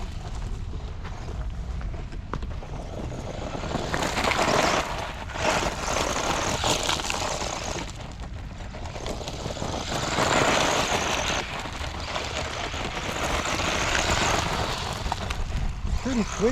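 Stock-motor RC buggy driving at speed, a steady whining motor drone rising and falling as it passes, with people talking over it.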